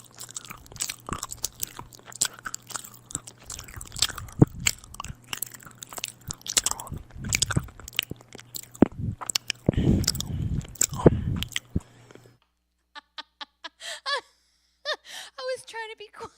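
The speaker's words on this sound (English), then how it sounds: "So obviously that was chewing sound effects." Close, wet chewing and crunching sound effects, repeated bites and squishes over several seconds with a steady low hum beneath, followed by a few sharp clicks and short bursts after a brief quiet gap.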